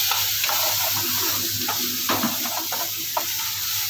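Spices, turmeric and curry leaves sizzling in hot oil for coconut chutney, a steady close frying hiss broken by scraping stirs with a spoon, loud, with no voices.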